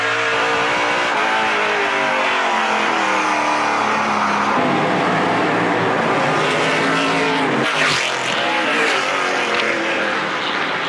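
NASCAR Pinty's Series stock cars racing at Sunset Speedway, a loud, continuous engine roar filling the whole stretch with shifting pitch as cars pass close, and no voices.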